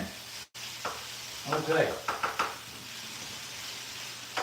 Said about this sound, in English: We've got the sizzle, just like last night's French omelet.